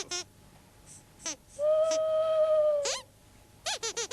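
A single long, steady hoot, likely a voice imitating an owl, sounds close and clear in a quiet night scene. It is framed by short squeaky puppet-like voice bursts before and after.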